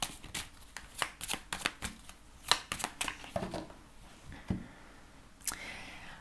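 Tarot cards shuffled by hand in a quiet room, giving repeated crisp riffling bursts and soft flicks for several seconds, close and fairly faint, with no speech.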